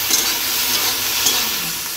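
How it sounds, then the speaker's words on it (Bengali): Fish frying in a pan on a kitchen stove, a steady close broadband sizzle with faint stirring scrapes, continuous and without speech. "এদিকে মাছগুলো ভাজা বসিয়ে দিয়েছি"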